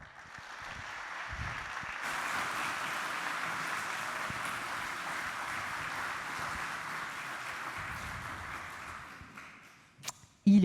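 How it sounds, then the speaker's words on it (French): Sustained applause from a conference audience welcoming the founding president at the opening of a workplace health and safety colloquium, a broad wash of clapping heard at a distance for most of the stretch before fading, ending with a few louder knocks. "envoyer une belle salve d'applaudissements au président fondateur du Fonds de dotation"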